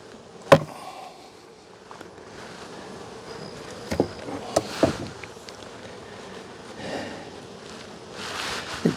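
Honey bees circle an open hive on a hot day during a honey harvest, a faint steady buzzing drone with occasional louder close passes and a few sharp knocks and bumps.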